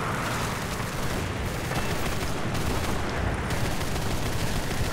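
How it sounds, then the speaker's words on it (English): Aircraft guns in the War Thunder air arcade mode fire in a dense, continuous barrage, loud and rapid with overlapping bursts throughout and no pauses, without any talking. "There's a lot of guns firing there."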